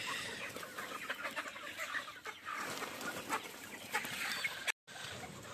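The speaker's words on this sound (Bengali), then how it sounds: "এগুলো মুরগি" Sonali chickens on a poultry farm at sale time, many birds clucking close by in a busy, continuous chorus with a brief gap near the end.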